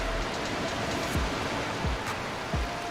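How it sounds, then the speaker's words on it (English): A big interactive waterfall on a Farming Simulator 22 forestry map sends out a steady, loud rush of falling water with faint periodic low thumps underneath. "Then our big waterfall."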